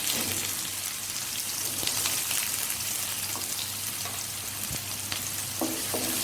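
Chopped onion frying slowly in hot oil with cumin and asafoetida until golden brown, giving a steady, close crackling sizzle with occasional stirring clinks throughout.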